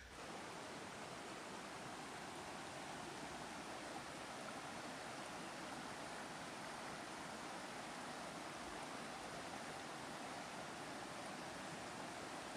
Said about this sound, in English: Spending some quality relaxation time at the creek.